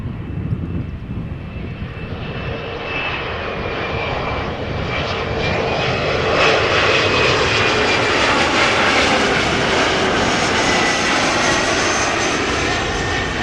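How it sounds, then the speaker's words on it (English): An SAS CRJ 900 jet arriving from Stockholm at Amsterdam Schiphol roars steadily and close, its whining engine tones sliding and rising as the sound swells louder toward the end. "another SAS CRJ 900 arriving from Stockholm"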